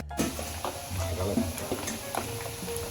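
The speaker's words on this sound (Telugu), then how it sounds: "ఫ్రై అవుతున్నాయి కదా అలా కలర్ వచ్చాక తీసుకోవాలి పక్కకి" Prawns fry in a pan for homemade prawn pickle, a close, continuous sizzle and crackle of oil broken by the scraping and clatter of a spoon stirring through them.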